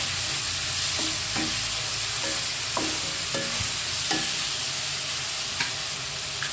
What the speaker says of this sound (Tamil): இப்போ உருளைக்கிழங்கு, கத்திரிக்காய், தக்காளி இது எல்லாத்தையும் சேர்த்து ஒரு 2 நிமிஷத்துக்கு நல்லா வதக்கி விட்டுக்கலாம்.